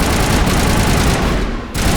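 Sustained automatic gunfire rips through a firefight in Mass Effect 1 Legendary Edition. The fusillade is loud and close, with a brief dip near the end before the shooting resumes.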